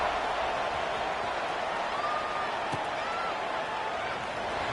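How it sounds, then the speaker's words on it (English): A steady, even roar from the stadium crowd at an LSU versus Michigan football game, continuous and unbroken, with some faint talk under it. "this crowd is buzzing after that last score"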